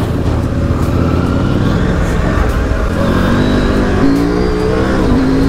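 A 890 dual-sport motorcycle pulls away under hard acceleration. The close, loud engine note climbs steadily in pitch as it revs through the gears.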